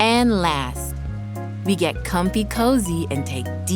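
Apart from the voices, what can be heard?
No everyday noise stands out behind the speech.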